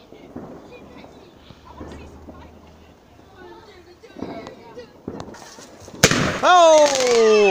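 A bonfire night firework banger goes off loudly at about six seconds, followed by a sustained crackling, whistling burst, after several seconds of people chatting outdoors.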